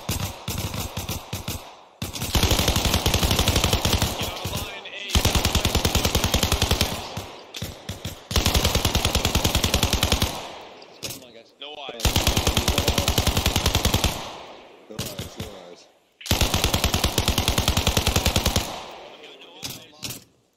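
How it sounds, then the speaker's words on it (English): Machine gun fire from an ARMA Reforger game battle, including a Mark 48: five long sustained automatic bursts of several seconds each, separated by brief pauses, loud and close. "Shots, shots, shots."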